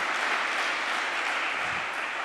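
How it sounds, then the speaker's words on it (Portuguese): Conference audience applauding in a hall after a farewell tribute, steady dense clapping that fills the whole stretch at an even level with no talk over it. "pedia-vos uma salva de palmas"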